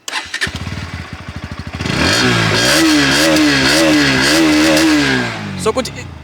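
A Bajaj Pulsar NS160 motorcycle engine ticks over briefly, then fires up and revs repeatedly in rising and falling surges, loud and close, before settling back to idle.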